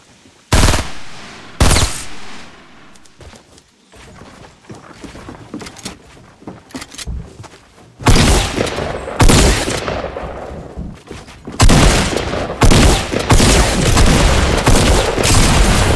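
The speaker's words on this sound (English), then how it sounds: "Didn't I hear shots over here?" Gunfire in the Fortnite Battle Royale video game: scattered single shots early, then dense bursts of rapid automatic fire and booming blasts, loud and close.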